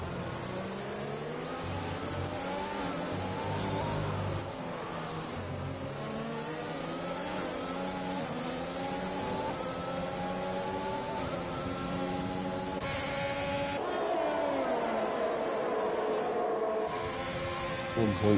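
Race car engine in a racing video game sweeping past on a Mexico stadium section, a continuous loud revving whine with rising and falling pitch that swells and recedes, steady throughout.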